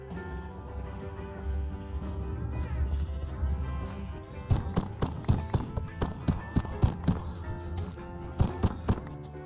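Cows are struck down in Minecraft, a run of sharp rhythmic hits and thumps following a stretch of steady background music, with a voice talking beneath.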